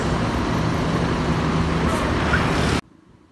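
Steady engine and road rumble from buses at a roadside restaurant rest stop in Indonesia, including an MPM bus preparing to depart for Jakarta, continuous and fairly loud before cutting off abruptly near the end.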